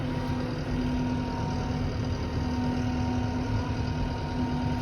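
A tractor with a mower attached, running in slow gear on a winter day: a steady, low, droning engine rumble with a constant hum, close by and unbroken, with no speech.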